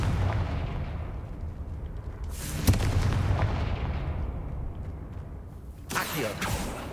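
A Confringo spell in the Hogwarts Legacy video game bursts with loud booming explosions, one at about the middle and another near the end, over a continuous rumbling, roaring game soundscape.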